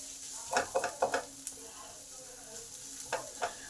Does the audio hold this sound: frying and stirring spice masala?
yes